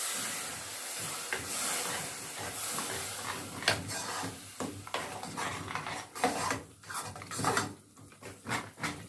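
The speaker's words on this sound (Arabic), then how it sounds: "وهقلب بقى كويس." A spoon scraping and stirring béchamel sauce in a pot over a steady sizzling hiss, with clinking knocks of utensil against metal; no voices.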